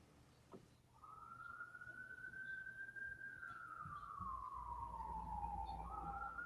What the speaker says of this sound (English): We're hearing police sirens.